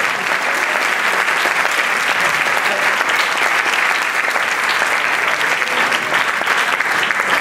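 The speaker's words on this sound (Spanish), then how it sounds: "¿Cuándo le da un aplauso al Espíritu Santo?" A church congregation at a Venezuelan fasting service claps in dense, sustained applause for the Holy Spirit, loud and steady throughout with no pause or voice over it.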